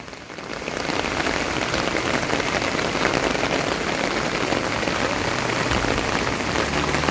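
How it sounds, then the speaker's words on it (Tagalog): Heavy rain pours steadily onto a surface, a dense, constant roar of drops that stays loud and unbroken throughout. "Sobrang lakas na ulan."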